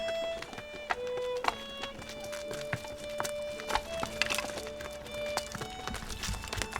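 Faint, irregular hoof clip-clops and scattered clatter under quiet background noise, sounding like horses moving off at a walk.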